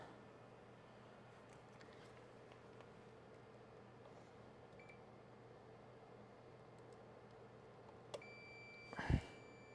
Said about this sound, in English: So the beeping should go away when I push that in, which it does.